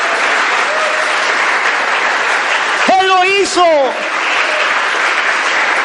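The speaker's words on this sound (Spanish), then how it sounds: "¿Cuántos le pueden dar un aplauso y honrar su nombre?" A church congregation claps together in a steady, even wash of applause; a voice cuts in briefly over it partway through.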